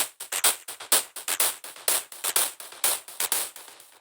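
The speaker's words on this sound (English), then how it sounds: "this little sort of minimal percussion loop that I made" A sparse electronic percussion loop of crisp, noisy clicks and ticks in a quick, uneven repeating pattern, fairly quiet with no voices.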